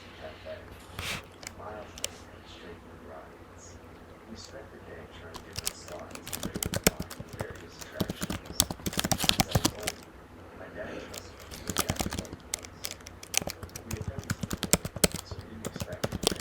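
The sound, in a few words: typing on a computer keyboard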